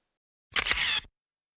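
A single camera shutter click, a short crisp mechanical snap like a reflex camera, heard alone against silence.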